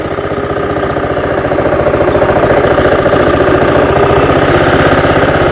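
Honda lawn mower engine running close by; a loud, steady, rhythmically pulsing idle drone continues throughout with no talk over it.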